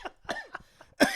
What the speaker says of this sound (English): I've developed a cough on the way here